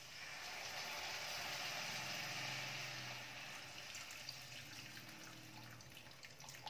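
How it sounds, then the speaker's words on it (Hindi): Soaked millet rava water poured into a pan on a gas stove while making upma, a steady broad splashing pour that is loud at first and eases slightly after a few seconds, with no talk. "पहले इसमें ये पानी डालेंगे।"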